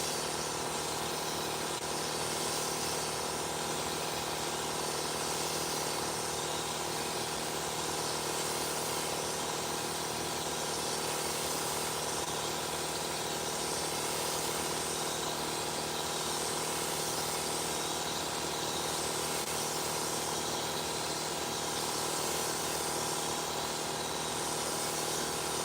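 Steady, continuous hiss of a paint spray gun applying lowrider-style candy paint over metal flake, with a mechanical hum underneath, loud and close, running unbroken throughout.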